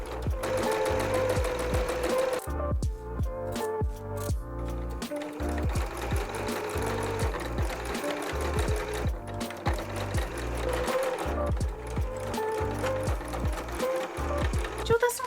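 A sewing machine stitching fabric runs in fast, rhythmic mechanical bursts, starting and stopping several times. The rattling needle and gears stay close and clear throughout.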